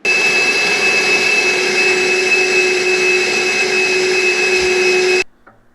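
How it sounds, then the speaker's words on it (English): A vacuum cleaner sucks chaff out of a New Holland CR combine, a loud steady whine running unbroken for about five seconds before cutting off abruptly. "The first thing I'm gonna do though is vacuum out the chaff that's in here and in the front one."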